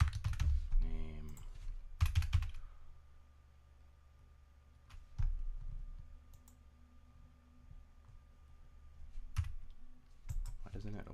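Quiet clicks of a computer keyboard being typed on at a desk, in scattered bursts and single keystrokes with pauses between, close and soft, alongside occasional handling bumps.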